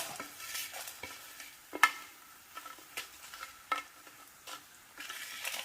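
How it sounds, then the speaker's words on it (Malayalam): Coriander, cumin, garlic, ginger, pepper, dried chili and curry leaves roast in ghee, a soft sizzle broken by repeated scraping stirs and clinks of a spoon against the pan. "ഇതെല്ലാം കൂടെ നമുക്ക് നെയ്ക്കകത്തൊന്ന് മൂപ്പിച്ചെടുക്കണം."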